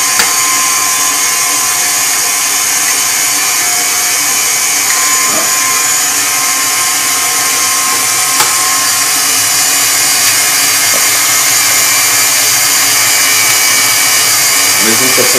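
An electric mixer whirs steadily and loudly up close, beating cheesecake batter as two whole eggs are added. The high, even drone continues without a break throughout.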